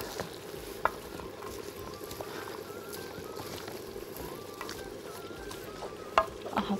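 A spoon scrapes and stirs through pumpkin soup with added potatoes in a pot, a steady soft churning with a faint simmering sizzle and a couple of sharper clinks.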